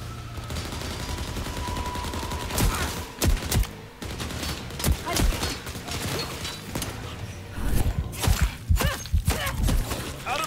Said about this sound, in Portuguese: Tá atirando na gente, hein?